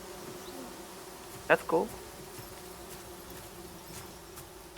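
Bees buzz faintly in a low, steady drone at a wooded campsite among trees, with a brief spoken remark and a couple of short sharp sounds partway through.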